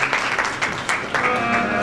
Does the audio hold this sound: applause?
yes